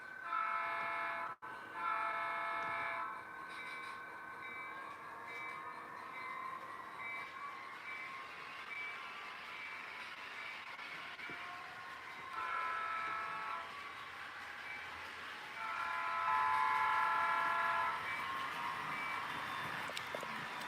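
An HO scale model BNSF train runs with a steady low rumble. Sustained tonal horn blasts sound repeatedly over it, moderately loud and with no talking.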